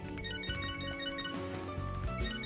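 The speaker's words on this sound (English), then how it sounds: "Oh, my phone." A phone ringtone from the video game Catherine plays a continuous electronic melody at moderate volume, with no talking.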